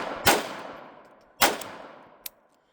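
Two sharp reports from a Jimenez JA22 .22LR pistol, about a second apart, each with a short decaying tail, followed by a smaller metallic click or clank near the end.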